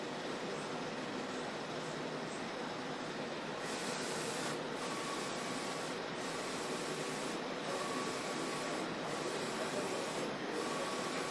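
A large-format printer prints logos with a steady, continuous mechanical hiss and whir, broken by a few regular faint gaps as the print head passes.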